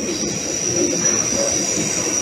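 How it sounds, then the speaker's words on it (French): A train departs from a station in Switzerland, a continuous rumble with a high, steady wheel squeal over it, loud and close. "Je laisse partir un train."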